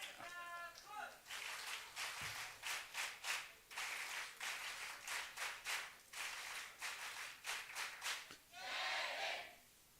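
Audience clapping at a national award festival for college social work, a quiet but steady patter of many hands in irregular bursts across the hall, with brief speech-like sounds at the start and end.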